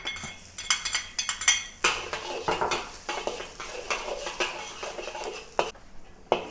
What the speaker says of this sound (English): Heat some more oil into the wok to saute the chopped garlic.